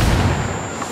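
A booming explosion from Ghost Recon Wildlands, heard during a Caimanes city mission: a loud, dense low rumble fills the whole second and slowly fades, with no voices over it.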